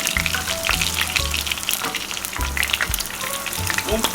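Frozen Magnolia chicken lumpia fry in hot grease in a pan with dense, crackling sizzle and irregular pops and spatters, close and continuous with no talking.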